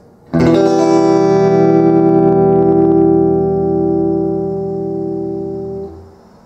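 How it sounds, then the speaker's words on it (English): A guitar chord strummed with a plectrum from the thickest to the thinnest string rings out once, loud and close, with a bright attack and a long sustain that slowly fades over several seconds. "with your plectrum, you play from the thickest string right through to the thinnest string"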